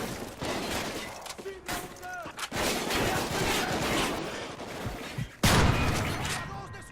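Gunfire in the video game Call of Duty Ghosts during a solo campaign mission, with bursts of shots and impacts over a busy battle mix, plus a louder blast near the end.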